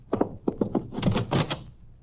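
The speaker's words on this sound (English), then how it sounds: "I heard a door close." Series of wooden thuds and clunks followed by a rattling thump, like a door being closed nearby.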